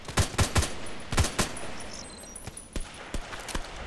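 HK417 rifle shots crack in a shooter game, fired in quick clusters of two and three and then as spaced single rounds that grow fainter, all heard without talk.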